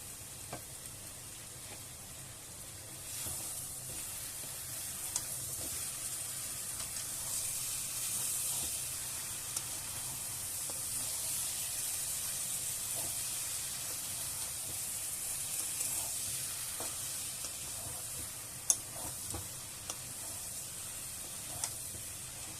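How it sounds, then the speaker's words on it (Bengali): Prawns sizzle loudly and steadily as they hit a pan of frying taro stolons, a continuous hissing fry with a few faint clicks of a utensil, close and unbroken with no talk. "এবার ঢেলে দেবো চিংড়ি মাছগুলো"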